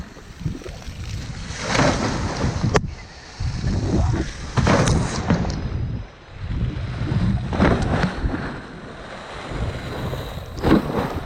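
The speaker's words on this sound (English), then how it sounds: "As you can see by the waves it's kicking off up the back, we're going to have a bit more of a wake issue." Ferry wake waves rolling against a sailboat off Skopelos: repeated surges of rushing, splashing water in broad swells, loud and close, with heavy wind buffeting the microphone throughout and no talking.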